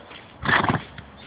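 A single short neigh rings out from a horse being free jumped in an arena, loud and close, rising and trembling for about half a second before a faint trailing snort.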